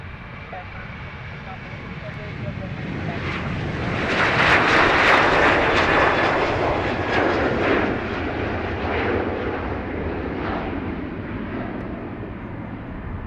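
A fixed-wing airliner at Dublin Airport's runway 28 right builds a broad, rising engine roar that peaks mid-clip and then holds steadily, heard at some distance with no talk over it.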